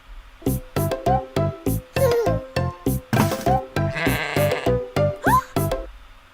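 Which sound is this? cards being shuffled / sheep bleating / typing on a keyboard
sheep bleating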